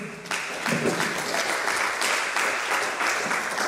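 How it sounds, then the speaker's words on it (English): Audience applause at an academic event on human-centered AI and gender equity, a dense, sustained clapping from a large crowd that swells after a brief quieter start and holds steady, without speech. "Let us sustain the applause"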